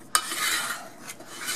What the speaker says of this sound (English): I'm going to continue to stir this in. Scrape those sides down, scrape the bottom.